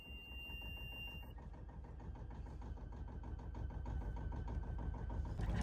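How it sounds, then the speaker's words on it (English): A 16-horsepower Yanmar marine diesel engine on a Pacific Seacraft Orion 27 sailboat, unrun for several weeks, catches and settles into a steady, rhythmic chugging idle, quiet and close, growing slightly louder toward the end. "the 16 horsepower Yanmar starts right up after not being run for several weeks."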